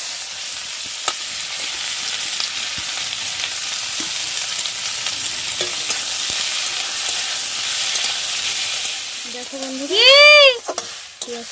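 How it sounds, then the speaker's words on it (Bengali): Onions fry in plenty of oil in a kadai, giving a continuous loud sizzle with occasional stirring clatter; a brief whistling tone rises and falls near the end and a voice speaks briefly. "পেঁয়াজটা আমার ভাজা হয়ে গেছে।"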